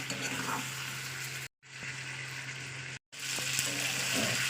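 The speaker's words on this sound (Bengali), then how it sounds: "এবার এটাকে আমি একসঙ্গে ভালো কষিয়ে নেবো পাঁচ মিনিট ধরে আমি এটা কষাবো" Food seasoned with salt and turmeric being sautéed in a pan makes a quiet, steady sizzle with faint stirring, broken by two brief dropouts.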